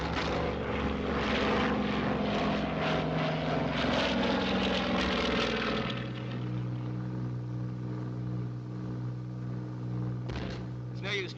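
A WWII bomber's engine and propellers roar loudly and steadily in a steep dive, the drone shifting and thinning toward the end before a brief crackle.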